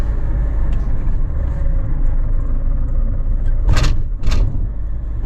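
An Iveco truck with a tarpaulin rolls along under a constant low engine and road rumble, then bumps twice over a road hump in quick succession with two sharp clunks.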